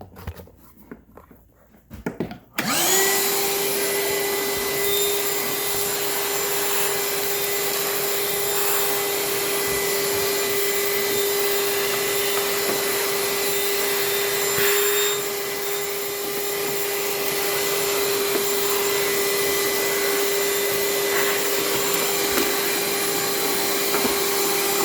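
A Ryobi 18V ONE+ 3 gallon wet dry vac starts after a few seconds of quiet handling and then runs loud and steady with a constant whining drone while vacuuming wood chips, with slight dips as debris is sucked up.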